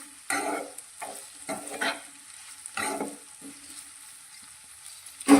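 Okra curry being stirred in a pan, several scraping, sizzling strokes of a spoon in quick bursts, then a pause and a final clack at the end.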